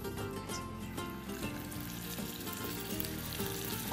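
Fish frying in hot oil on a Bengali cooking show, giving a dense, steady crackling sizzle that runs unbroken and close throughout, with no talking.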